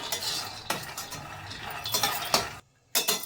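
Peanuts are stirred and dry-roasted over low to medium flame in a pan, making a close, dense rattling scrape with sharp clicks of the spoon against the pan, then a short silence before more stirring.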